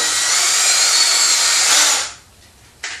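A power drill bores into a trident maple bonsai trunk, whining steadily at high speed for about two seconds, then cutting off, followed by a brief restart near the end.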